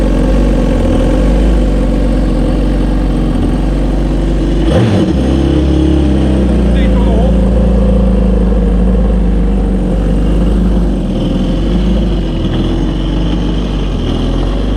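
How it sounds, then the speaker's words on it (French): Kawasaki STX 15F jet ski engine idles steadily at close range after coming out of winter storage, a loud, even rumble with a short thump and a slight dip in pitch near the middle. "Le moteur tourne au rond."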